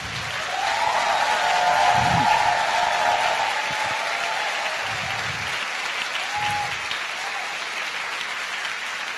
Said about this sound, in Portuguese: Vocês podem aplaudir o Senhor pela vida desse casal?